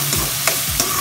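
Potatoes with turmeric stirred in a hot pan, loud constant frying hiss broken by three quick scraping strokes of the spoon, close up with no talk.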